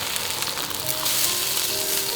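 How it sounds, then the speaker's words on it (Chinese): Fillet of spotted knifejaw fish sizzling in hot oil in a pan after being turned over, a loud, steady crackling hiss close up with no voices. "这个鱼皮煎一下，马上就卷起来了"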